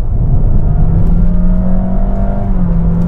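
A 2022 Honda HR-V with a CVT automatic gearbox holds a steady, droning engine rev under acceleration, a loud continuous whirring hum with no talk over it.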